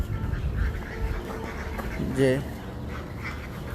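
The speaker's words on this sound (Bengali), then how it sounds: "হাঁসগুলা, এগুলো হচ্ছে ডিমের হাঁস" Egg-laying ducks kept with pigeons at a home in Comilla give a brief loud quack near the middle, with a voice speaking briefly and low background noise.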